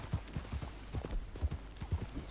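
Horse hooves clip-clop at a steady trotting rhythm in Red Dead Redemption 2 Online, a string of soft, evenly spaced thuds, fairly quiet and close, with no other sound on top.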